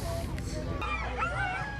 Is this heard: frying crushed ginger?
no